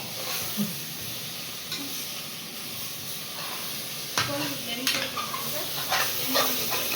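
Tomatoes fry in a pan for a chicken dish, a steady sizzle and hiss with scraping, clinking stirring strokes that grow busier toward the end.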